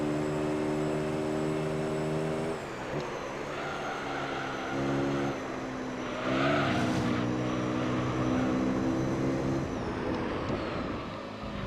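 A race car in Gran Turismo 3, an RX-7, holds a loud, steady engine drone throughout. Pitch dips and climbs as it shifts and corners, and a brief tyre squeal or skid rises near the middle.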